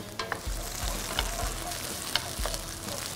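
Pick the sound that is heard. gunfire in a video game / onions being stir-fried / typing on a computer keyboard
onions being stir-fried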